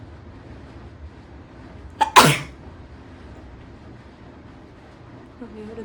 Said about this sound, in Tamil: வேறு தும்மல் தான் வந்திருக்கு.